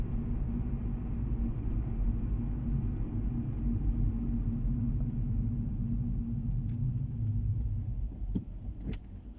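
A car driving through busy city traffic near a tram line, with a steady close interior engine and road rumble throughout and a few faint clicks near the end.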